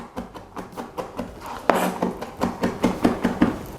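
A knife chopping capers finely on a cutting board, with a steady run of quick, crisp taps close up, one sharper knock midway, and no talking.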